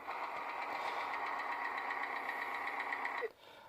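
A running car engine makes a rapid, steady clacking rattle, loud and close, for about three seconds before cutting off sharply to a quiet background.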